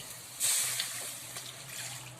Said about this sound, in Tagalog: Lagyan natin ng water.